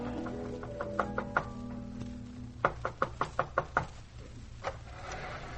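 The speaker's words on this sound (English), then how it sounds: "There's a knock at the back door." Knocking at a back door as a 1940s radio drama sound effect: a few scattered raps, then a quick run of about six sharp wooden knocks, and one more knock after a pause, with no voices.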